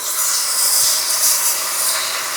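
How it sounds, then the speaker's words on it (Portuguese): Tomato sautéing in a pan with onion, pepper and garlic, a loud continuous sizzle and hiss that holds steady for a couple of seconds with no talking. "Aí agora nós vamos acrescentar o tomate aqui também na panela. Então, viro o tomate, deixo ele dar uma refogada"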